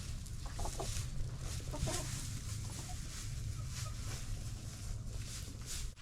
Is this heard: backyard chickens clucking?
yes